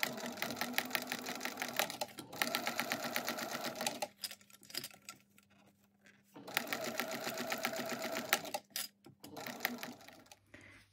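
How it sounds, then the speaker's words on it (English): A sewing machine runs steadily, basting a zipper closure onto a fabric bag with an eighth-inch seam allowance, in two long bursts of rapid stitching separated by a short pause. "we're just going to baste this into place with an 1/8 inch seam allowance"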